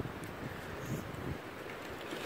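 Outdoors, gusty wind buffets the microphone with a steady low rumble and hiss. Nobody speaks through the short stretch.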